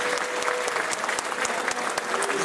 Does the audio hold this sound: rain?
no